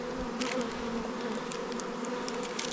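Honey bees buzz around backyard hives in early spring, a continuous close droning hum with individual bees zipping past in brief louder passes.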